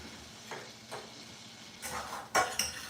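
Blueberry sauce being stirred in a pan, quiet scattered scrapes and clinks of a utensil against the pan, a few sharper taps near the end over a faint background hum.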